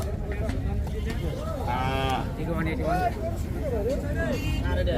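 Cattle moo repeatedly at a cattle market, a few drawn-out lows close by, amid a noisy crowd of overlapping voices and general market hubbub.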